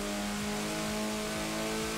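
A vintage car in Forza Horizon 4 drives with a steady, loud engine drone that revs a little and keeps a constant buzzing tone for about two seconds, with no talking over it.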